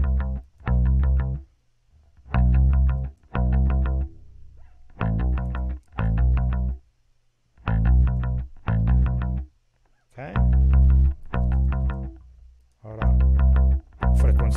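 A bass line runs through a CLA Bass plugin's low-frequency section, playing short, heavy, distorted notes in a choppy rhythm with brief silences between phrases, loud and alone.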